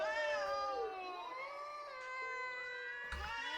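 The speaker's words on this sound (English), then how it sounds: "The cats are upset." Upset cats in a video game meowing in a long string of drawn-out, wavering cries that overlap and glide in pitch, fairly close and clear over a quiet background.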